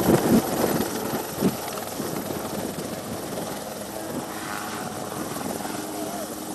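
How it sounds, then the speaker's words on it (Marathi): A rescue helicopter flies over the flooded Girna River area near Nashik, its steady rotor thrum and engine drone continuous and fairly close, with indistinct voices mixed underneath. "आता सुद्धा काही तरुणांना घेऊन हेलिकॉप्टर जे आहे ते या भागामध्ये आलेलं आहे"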